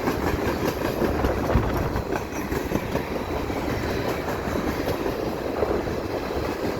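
A freight train on the Dundas Sub near London, Ontario rolls past with an AC44C6M locomotive working as mid-train DPU, giving a continuous loud rumble and rail clatter close by throughout, without speech.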